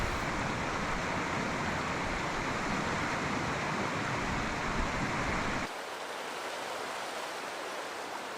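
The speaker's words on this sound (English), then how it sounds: "listen to the water flowing past" The Deschutes River in the high desert of central Oregon rushes past a campsite, a loud, steady broadband roar of flowing water that drops abruptly to a softer, thinner hiss partway through, with no voices.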